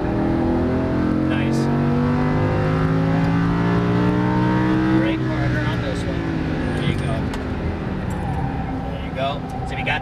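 A Lamborghini Huracan LP610-4 on a race track accelerates hard, its engine note climbing steadily loud and close, then shifting and rising again, while an instructor talks over it.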